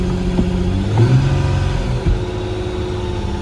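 A 2011 Infiniti G25 engine runs steadily close by after a battery install, a smooth, loud idle with a slight rev early on and no voices.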